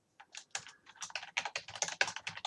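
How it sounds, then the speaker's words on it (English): Fingers type on a computer keyboard while code is entered, a quick irregular run of close, crisp key clicks, quiet and alone. "Now notice as I start to type, autocomplete starts to do its work."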